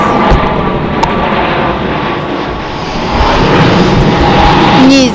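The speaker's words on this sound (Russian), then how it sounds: "зато самолеты не ленятся. Пролетают, когда хотят." Fixed-wing airplane passing overhead, a loud, steady engine roar that holds throughout and swells slightly toward the end.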